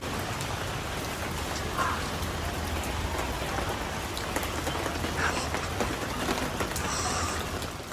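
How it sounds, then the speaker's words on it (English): Steady rain falls outside in Vienna, a dense, even hiss of drops on surfaces that holds at constant loudness throughout with no voices. "It's raining outside."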